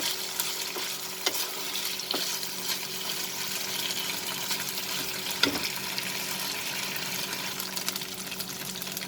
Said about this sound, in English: fry these prawns till they become nice and golden